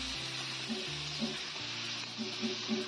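Spice paste with salt and turmeric sizzles steadily around moringa drumsticks in a pan, a continuous frying hiss with a few soft stirring knocks and no talking.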